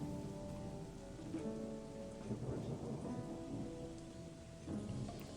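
Steady rain and low thunder rumbles from the Gothic role-playing game, a quiet continuous downpour with a few soft swells of thunder and no voices.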